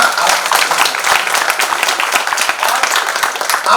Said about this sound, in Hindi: जरा तालियां